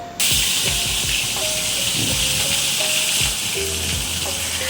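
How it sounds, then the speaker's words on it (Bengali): Rohu fish frying in a pan of hot oil, a loud, steady hiss and sizzle that runs unbroken throughout, close up, with faint spatters. "তো চলুন এবার মাছটিকে ভালো করে ভেজে নেওয়া যাক"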